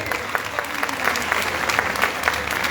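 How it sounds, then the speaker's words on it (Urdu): Sustained applause from a church congregation at a feast of Mother Mary, steady dense clapping throughout with crowd murmur underneath. "تالیوں کی آواز آنی چاہیے"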